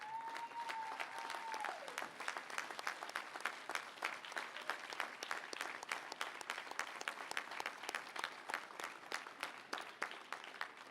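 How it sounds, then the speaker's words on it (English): Graduates at a technical college commencement ceremony give a round of applause to their families and supporters, dense steady clapping from a large crowd that continues evenly, with a brief tonal whine near the start. "All right, grads, turn around and give your support systems a round of applause."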